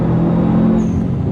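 A Subaru Forester STI SUV engine revs hard under acceleration, a loud, steady close-up roar filling the whole short moment without any voices.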